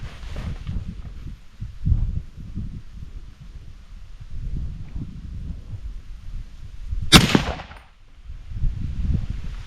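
A rifle fired from a tripod in a standing position cracks once, a single sharp, loud report ringing out over low, muffled handling noises and movement before and after.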